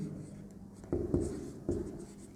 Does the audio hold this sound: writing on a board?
yes